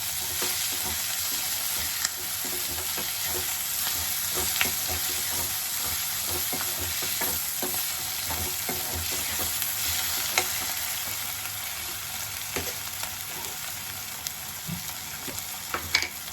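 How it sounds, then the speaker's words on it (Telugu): Fenugreek leaves being stirred into softened onions frying in oil for an egg curry, with a steady, even sizzle and occasional scraping clicks of the spoon against the pan, close by and with no talking. "ఇప్పుడు మెంతం కూర వేసుకుందాం. ఇది ఒకసారి కలుపుకోవాలండి."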